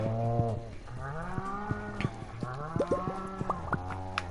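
Cows mooing in Stardew Valley inside a barn holding brown and white cows, with a series of long, overlapping game moos of varying pitch following one another over several seconds, close and clear.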